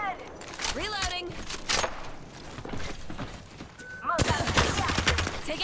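Automatic weapon fire in Apex Legends, a Volt SMG among the guns, comes as rapid bursts of close, sharp shots with mechanical clicks and reload clatter, then a denser volley near the end, while a voice talks over the action.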